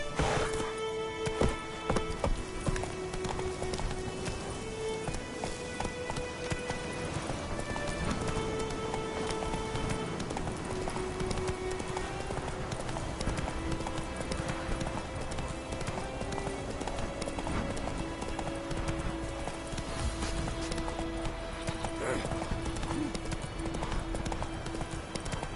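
Hooves of Roach, a horse in The Witcher 3, gallop in a fast continuous clip-clop rhythm throughout, with game music and ambience mixed beneath.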